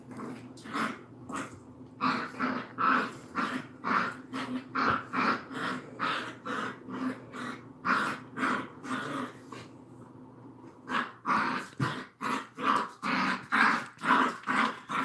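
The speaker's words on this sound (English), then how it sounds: "Puppies are fucking wrestling in the background." Puppies wrestling, growling and snarling in playful bursts, a continuous run of rhythmic rough growls with brief pauses, fairly close, with no talk over them.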